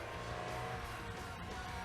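A car engine revs in a film scene, a steady, fairly faint motor drone running without pause through the short moment with no voices over it.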